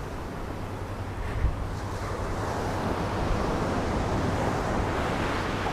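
Surf rolls in at Dada Beach beside the promenade, a soft continuous wash of waves mixed with light wind buffeting on the microphone and no voices.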